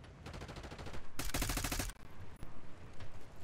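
Gunfire rattles in the Call of Duty Black Ops 6 campaign, with rapid automatic bursts and a dense louder volley in the middle, followed by scattered shots at moderate distance.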